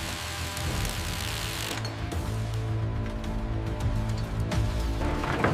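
Rusted bolts being loosened on an old 500-ton gold train, ratcheting and creaking metal clicks mixed with grinding gear-like rattles, steady and close throughout with no talk.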